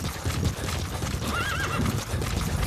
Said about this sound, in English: When Diamond Horse shows up